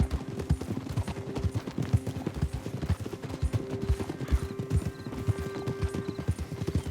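Horse hooves clip-clop steadily as a horse is ridden in the video game Red Dead Redemption 2, a fast continuous rhythm of hoofbeats under a droning game soundscape, with no talking.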